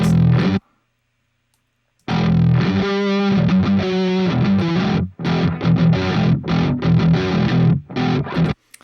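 An 8-string electric guitar playing alone with a warm, rounded low end, chords and bass notes ringing after a brief pause near the start.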